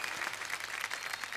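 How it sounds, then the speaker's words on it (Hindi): Audience applause greets a Bhojpuri actor-singer at a comedy show, a steady wash of clapping holding at an even level for the whole short stretch with no voices over it. "जोरदार तालियां एक बार मनोज भाई के लिए"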